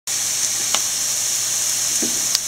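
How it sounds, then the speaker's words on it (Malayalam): Onion, green chili, crushed ginger and garlic sautéing in a pan for shrimp biryani, giving a steady close sizzle throughout with a few faint stirring clicks. "പച്ചമുളകും ഇഞ്ചിയും വെളുത്തുള്ളിയും ചതച്ചതും കൂടി ഇട്ട് കൊടുക്കാം. നല്ലപോലെ അതും കൂടെ ചേർത്ത് വഴറ്റുക."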